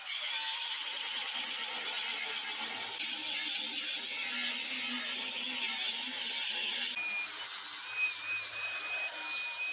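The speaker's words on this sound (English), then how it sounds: "we're just going to cut some steel and hi-ya on this thing" Power tools cutting steel for a trailer give a steady, close, high-pitched grinding whine that runs unbroken for the whole stretch, with a brief clatter and a shift in tone near the end and no talking.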